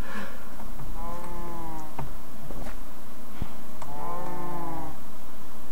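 A cow moos twice in the Minecraft modpack game Sky Factory 2, two drawn-out harmonic calls a few seconds apart over a steady background hum of game ambience.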